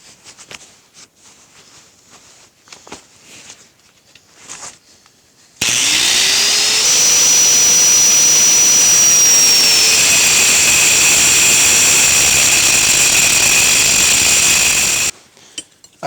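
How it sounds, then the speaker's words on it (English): An abrasive cutoff wheel slices through steel plate for a blacksmith guillotine build, a loud, steady high-pitched whine lasting several seconds before it stops, with quieter shop sounds before and after. "Then we're going to use a cutoff wheel."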